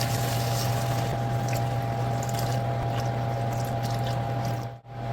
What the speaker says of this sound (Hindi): इस मौके पर हमने 4 कप पानी जो है वो शामिल कर लेंगे